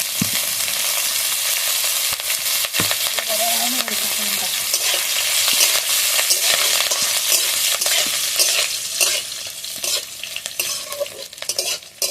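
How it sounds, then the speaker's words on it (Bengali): Ginger and green chillies fry in a pan for samosa filling, a steady loud sizzle with scraping stirs and occasional sharp spatula knocks throughout, no voices. "আদা কাঁচা লঙ্কা ভালোভাবে ভেজে নিয়েছি।"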